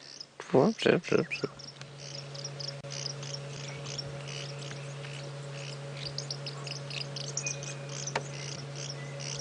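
Helmet shrikes calling on a morning safari drive, a few loud chattering bursts at the start followed by faint repeated chirps over a steady buzzing insect drone and a low engine hum.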